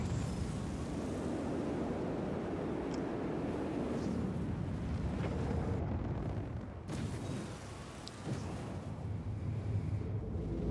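Engines of the Anvil Hurricane spaceship in Star Citizen during a full-speed turn: a loud, rumbling roar with surging swells and a momentary dip before it swells again, steady and continuous throughout.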